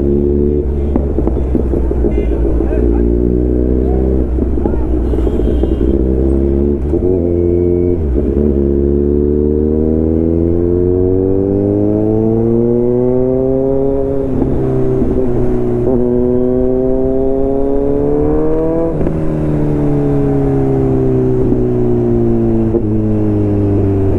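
A Kawasaki Z900 superbike being ridden, its engine loud and close with rising revs through the gears, each climb broken by a brief drop at the shift, droning steadily the whole time.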